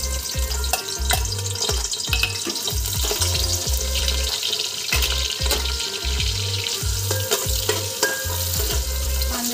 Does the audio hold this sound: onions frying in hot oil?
yes